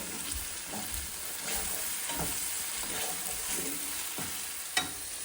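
Onion and tomato with cumin, salt, turmeric and a little sugar sauté in a pan, a steady close sizzle broken by rhythmic scraping stirs and one sharp clack near the end, without any talking.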